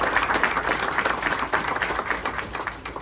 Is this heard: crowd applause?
yes